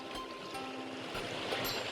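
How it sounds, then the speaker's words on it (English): A small stream flows into the Arkavati river, a steady low rush and babble of water that carries on without a break, fairly quiet and with no voices. "there's a little stream that's coming from that side as well"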